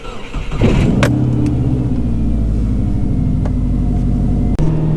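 A turbo-swapped Subaru Impreza engine cranks briefly, then catches and settles into a steady, loud, close rumbling idle.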